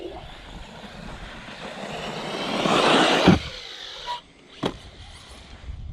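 A Senton RC truck's electric motor whirs and swells to a loud peak, then drops off, followed by a couple of sharp clicks and knocks as the small truck lands and keeps running.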